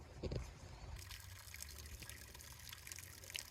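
Water trickling from a hose outdoors at an orchard's aquifer project, a close, steady gurgling dribble that runs the whole time without any voices.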